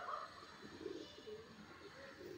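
Punjabi pigeons coo softly and repeatedly close by, low rounded calls rising and falling in short phrases over a quiet background hum.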